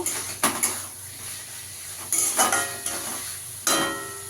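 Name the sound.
potatoes stir-fried with spice masala in a pan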